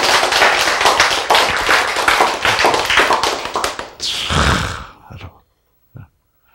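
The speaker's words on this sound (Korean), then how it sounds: "요런 박수 치는 순간이 무엇의 순간이에요?" An audience at a lecture on natural healing claps hands in dense, loud applause for several seconds before it tapers off, followed by a brief single thump.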